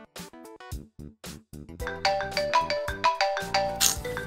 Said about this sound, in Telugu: ఈ టైంలో ఫోన్ ఎవడరా?